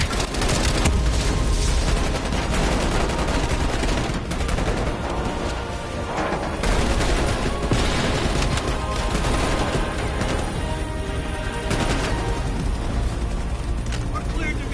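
Dense gunfire in Call of Duty Cold War during a helicopter escape, continuous loud automatic bursts and booms with engine roar, overlaid by shouting voices.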